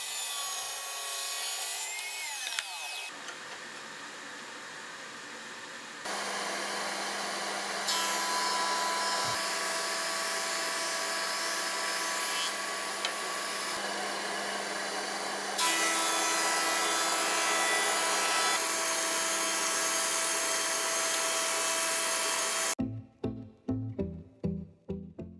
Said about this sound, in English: I cut all the boards to size in my homemade table saw.